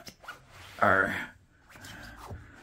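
A zipper being pulled on a SweetNight mobile warming blanket, one loud rasping pull lasting about half a second, with a fainter second pull later and talk around it.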